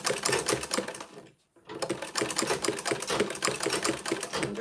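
Sewing machine stitching fabric up close, a fast rattling, clicking run of needle strokes that stops briefly for a moment of near silence, then resumes at the same brisk pace.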